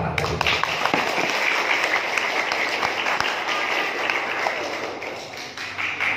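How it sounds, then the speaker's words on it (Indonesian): Applause and clapping from an audience for children after a traditional Acehnese dance performance at a school farewell event, a dense steady patter of many hands filling the whole stretch, moderately loud with faint voices mixed in. "Tepuk tangan untuk anak-anak"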